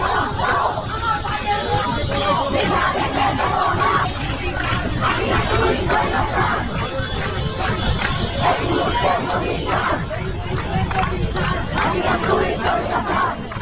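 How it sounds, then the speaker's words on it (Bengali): Students at a Quota Reform Movement protest in front of the High Court chant slogans in unison, a loud, dense crowd roaring rhythmic calls without pause, with overlapping voices and shouts throughout. "এ সময় শিক্ষার্থীরা উই ওয়ান্ট জাস্টিস আমার ভাই মরলো কেন প্রশাসন জবাব চাই রক্তের বন্যায় ভেসে যাবে অন্যায় সহ নানা স্লোগান দিতে থাকে"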